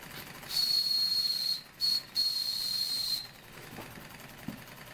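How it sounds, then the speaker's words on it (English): A small Airosol Model 301 toy steam engine hisses steadily while its steam whistle sounds a thin, piercing tone for several seconds, broken by two brief gaps, then stops, leaving a soft hiss and a faint clunk. "Another little steam engine brought back from the dead."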